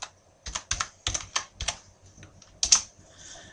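Close, crisp typing on a computer keyboard while entering text into an Excel spreadsheet, with quick clusters of keystrokes separated by short pauses.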